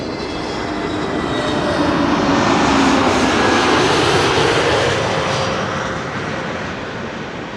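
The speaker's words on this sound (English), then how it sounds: "the EasyJet and Transavia approaching from the south" EasyJet and Transavia airliners approach Schiphol from the south, a loud continuous jet engine roar that swells toward the middle and eases slightly as the planes pass.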